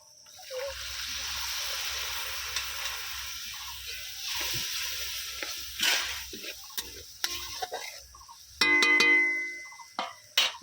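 Spice masala frying in a pan for egg bhapa, a soft steady sizzle with stirring scrapes, then a sharper hiss and bubbling as a little water goes in near the end.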